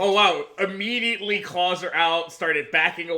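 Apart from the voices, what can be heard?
No everyday noises stand out.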